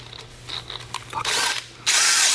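Power drill whirring in short bursts followed by longer, louder runs, close by in a garage while working on an E36, no voices.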